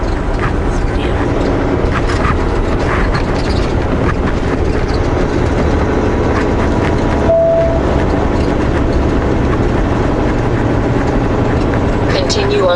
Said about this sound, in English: we're not going to catch up with that train anytime soon